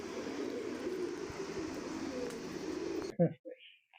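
Three pigeons give low, soft coos over a steady wash of background noise. The noise cuts off abruptly near the end, leaving a few short, close coos alone in near silence.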